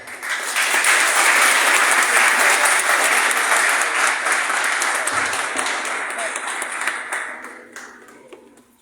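Sustained applause from a conference audience after a speech on education-system challenges, loud and dense for most of the stretch before tapering off near the end.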